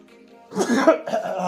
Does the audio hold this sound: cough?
yes